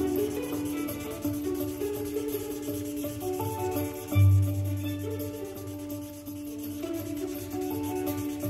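A crayon or pencil rubs across paper coloring a sky for an art lesson, a soft continuous scratchy stroking under background music.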